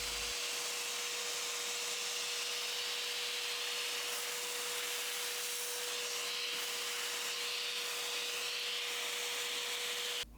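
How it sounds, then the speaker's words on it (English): A vacuum cleaner runs steadily and loudly between rounds of sanding on a model railroad grade crossing, a constant whooshing drone with a faint whine throughout, no voices. "we do always vacuum in between rounds of sanding"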